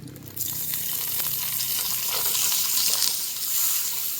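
Chopped tomatoes dropped into hot mustard oil for a pointed gourd curry set off a loud, steady, hissing sizzle that starts suddenly and carries on evenly with no talk over it.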